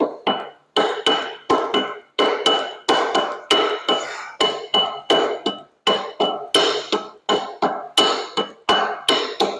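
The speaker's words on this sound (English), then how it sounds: "I just got to tap this back and forth on here. Should probably use the rawhide, huh?" A rawhide mallet taps a cam gear into place on a 1920 Nash engine, giving a long series of sharp, loud, close knocks in irregular clusters with brief ringing decay between strikes.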